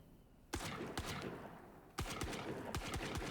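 Rapid bursts of Bandit pistol fire in the Valorant video game, several sharp close shots in quick clusters over a steady background hum.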